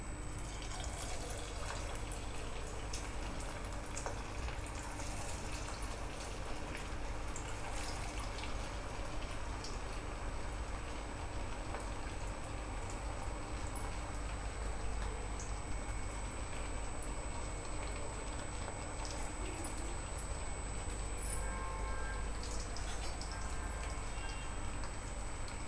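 Sweet corn vadas fry over low heat in a pan of hot oil, a faint, even crackle with soft ticking bubbles that continues unbroken for a long stretch, with no voices.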